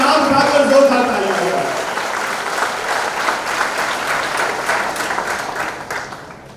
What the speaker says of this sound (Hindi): हाथ उठाकर, हवा में हाथ उठाकर जोरदार तालियां